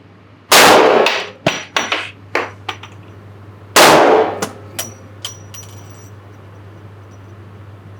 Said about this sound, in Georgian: მოვემზადე. იქნება გასროლა.